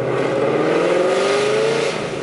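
A car fitted with AWE Touring cat-back mufflers accelerates gently, its steady exhaust drone rising slowly in pitch as it rolls into the throttle, continuous and fairly close for about two seconds.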